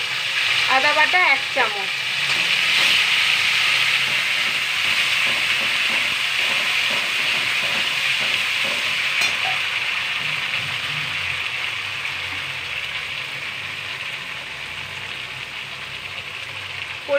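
Coriander-cumin paste and ginger paste hitting hot oil in a pan, a steady loud hiss that runs throughout and slowly fades, with a voice speaking briefly near the start.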